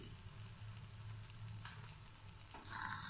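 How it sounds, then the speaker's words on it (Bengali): Kanai greens bharta frying in a pan with turmeric powder just added, a steady low sizzle that swells a little near the end, with no talking. "ভালো করে একটু ভেজে নেব"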